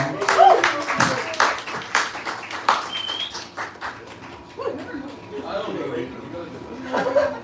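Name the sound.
audience applause at stand-up comedy show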